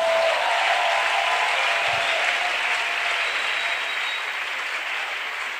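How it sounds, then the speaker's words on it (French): A church congregation applauding during a French-language sanctification service, a broad, continuous roar of clapping that fills the room at steady loudness and slowly tapers off, with no talk over it. "Célèbre le Seigneur par tes acclamations"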